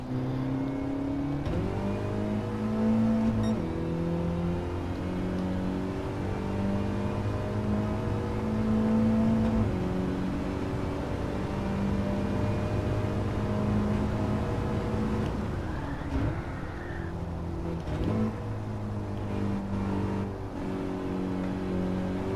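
A Mini race car lapping in Gran Turismo 7, its engine droning and rising through the gears with steady revving, brief dips on shifts and braking, loud and continuous with no talk.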